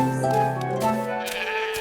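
A sheep's long wavering bleat, part of a French children's nursery rhyme about Little Bo-Peep and her ewes, rings out loud and sustained over a musical backing for nearly two seconds.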